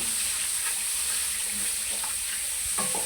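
Steady, loud sizzle of chicken liver frying in oil in a kadai, a continuous hiss with a few faint clinks near the end.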